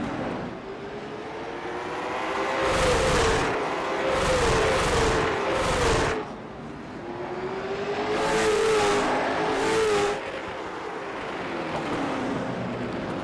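Race cars in a CLR Saturday money race at the LA Bash roar past on an oval track, engines swelling and fading in repeated loud passes with a steady motor drone between them.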